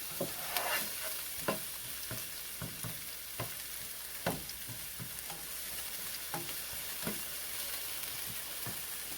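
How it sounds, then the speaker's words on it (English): Onions fry in a pan for Chinese-style shrimp fried rice, a steady sizzle broken by repeated close scraping strokes of a spatula. "I'm just gonna let this fry up"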